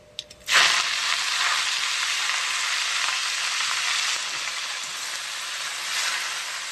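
Garlic and leafy greens start frying in a hot pan, a sharp burst of sizzling at the start settling into a loud, steady crackling hiss that carries on without a break.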